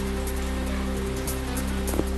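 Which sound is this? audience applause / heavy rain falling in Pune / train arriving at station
heavy rain falling in Pune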